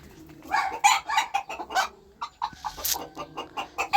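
A Luiche rooster clucks in a quick series of close, sharp calls with brief pauses between them, followed by a second burst of clucking.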